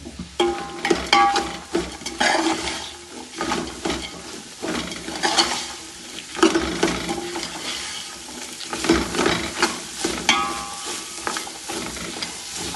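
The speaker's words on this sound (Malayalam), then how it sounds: "ഉള്ളി നന്നായി വാടട്ടെ" Shallots and green chillies fry and sizzle in a pan for a Kerala puli inji, with a spoon repeatedly scraping and stirring. The crackle is steady and close, and pan clatters and scrapes come in bursts.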